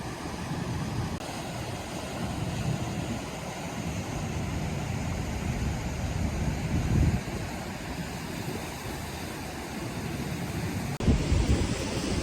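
A steady broadband rush of small waterfalls beside a boardwalk on a recreational trail in Almonte, Ontario, continuous and fairly close, with some wind buffeting the microphone and no voices.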